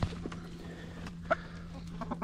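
Chickens in a solar-powered coop, a few soft clucks and short calls over a steady low hum, faint and scattered.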